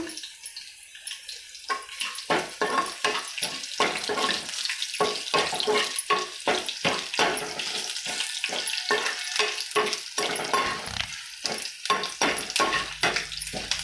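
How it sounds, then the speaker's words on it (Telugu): Garlic dropped into a hot pan of oil for an Indian okra fry, crackling and sputtering in rapid, irregular bursts that stay loud and close throughout. "ఇప్పుడు ఎల్లుల్లిపాయలు వేస్తున్నాను"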